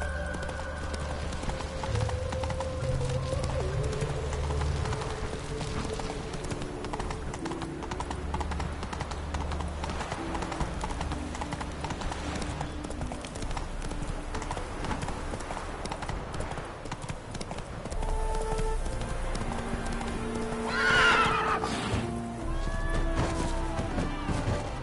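Horse hooves clip-clop at a steady gallop in The Witcher 3 game, loud and continuous over game music, with a brief neigh near the end.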